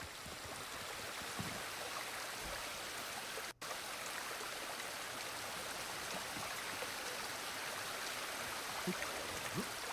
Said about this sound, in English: Why is this river so damn loud?